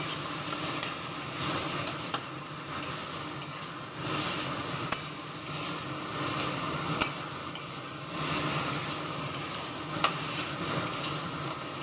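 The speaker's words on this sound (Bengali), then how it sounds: "একটু ভালো করে কষিয়ে নেবে।" Mashed eggplant with coriander leaves stir-fried in a pan, a soft, steady sizzle with periodic scrapes and occasional clinks of a utensil on metal, fairly quiet and without voices.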